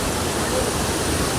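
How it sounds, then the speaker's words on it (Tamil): Water swollen by heavy rain rushes forcefully through a Wayanad forest, a loud, dense, continuous roar that fills the clip without a break. "பயங்கரமாக மழை இங்கே, அந்த தண்ணி நல்லா ஃபோர்ஸாக வருது"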